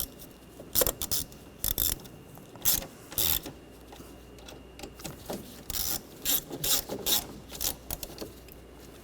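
A ratchet tightens brake master cylinder bolts on a 2013-2019 Ford Escape, producing short runs of close metallic clicking in several bursts separated by brief pauses.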